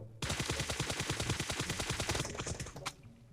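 A sustained burst of automatic gunfire in PUBG Mobile, rapid, evenly spaced shots hammering close and loud for about two seconds before cutting off, followed by a few scattered trailing sounds.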